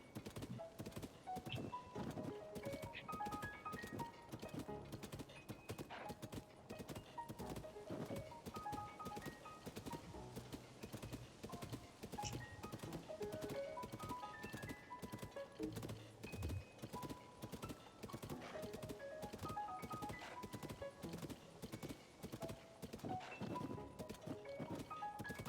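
A horse gallops under a rider in the video game The Legend of Zelda: Tears of the Kingdom, with quick rhythmic hoofbeats that continue steadily for a long stretch at low volume.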